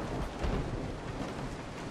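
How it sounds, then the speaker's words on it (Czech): Steady rain with a low rumble of thunder outside the house in Resident Evil 7, a continuous, even wash of noise with no talking. "Víte, že venku prší"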